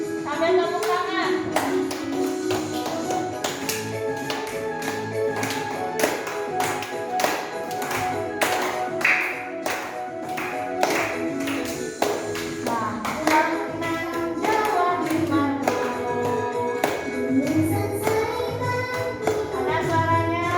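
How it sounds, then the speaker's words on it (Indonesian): Children clap along to a song in a classroom lesson, rhythmic handclaps repeating steadily under singing voices and a backing melody throughout. "Sambil tepuk tangan."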